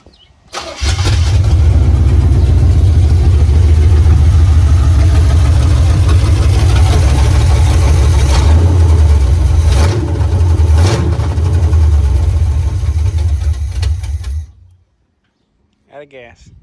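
A 1970 Chevrolet Impala engine, running for the first time in four years, catches and runs loudly with a deep rumble and some uneven revving, then cuts out abruptly, followed by a short quiet stretch.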